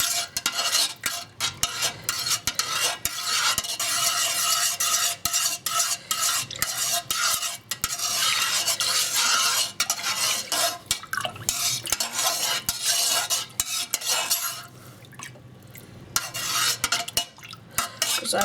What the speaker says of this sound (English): Let's stir this. Let's dissolve this.